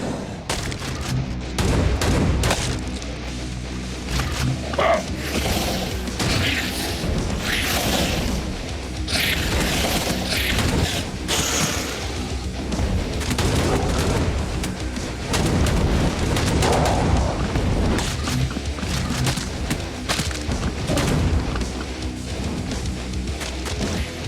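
Dense gunfire and booming explosions from the video game Hellbound roar continuously, rapid shots layered over heavy blasts and crashes with no letup.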